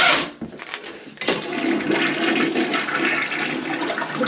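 A toilet flushes up close with a loud rush of water that begins after a brief clunk and then swirls steadily and continuously, no voices present.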